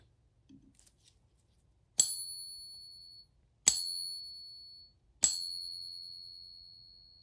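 A Morgan silver dollar is struck three times at steady intervals in a ring test, each strike giving a bright, high metallic ring that decays slowly in an otherwise quiet space.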